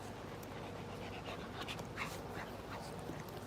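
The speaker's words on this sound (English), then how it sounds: "So we got a guest dog." A visiting dog pants softly and steadily at close range, with a few faint whimpers rising through the rapid breathing indoors at a family Christmas gathering.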